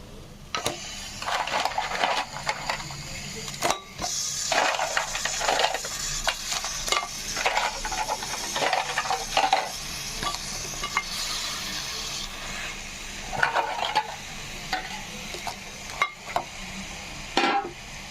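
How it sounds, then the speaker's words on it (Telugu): Raw crabs, cleaned and washed, tossed into a pan of masala for a Telugu-style crab curry, sizzling and frying steadily while a spoon stirs and scrapes with repeated clanks against the pan. "ఇప్పుడు ఈ పీతల్ని ఇందులో వేద్దాం"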